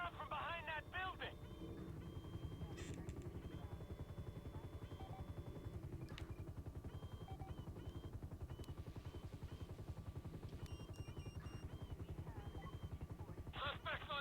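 Police helicopter in the video game GTA 5, a steady rotor chop thudding continuously throughout, fairly loud and persistent, with brief game sound effects and faint voices over it.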